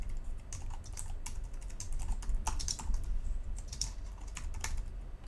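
Someone types on a computer keyboard while writing XAML code, a close, steady patter of key clicks with no voices over it.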